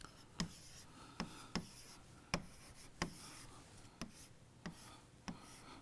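A pen draws a spanning tree diagram for Prim's algorithm, giving a soft, quiet scratching with about nine distinct taps and strokes spread unevenly over several seconds, with no talking.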